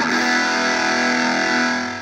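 Electric guitar played through a Tone City Tiny Spring reverb pedal, a sustained, dense wash of chords with a lush spring-reverb tail, loud and continuous, no voices.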